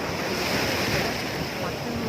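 Sea waves at a beach in Puri produce a continuous, close roar of churning surf. Heavy wind buffets the microphone and faint background voices mix in.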